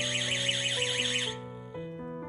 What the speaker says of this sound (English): When it is interfered, the machine works normally, and the alarm stops after 8 seconds of alarm.